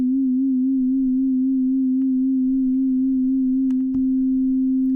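Ableton Operator synth plays a single pure sine-like tone held steadily with a gentle, even pitch wobble from vibrato, then the wobble stops abruptly near the end with a faint click; no voices.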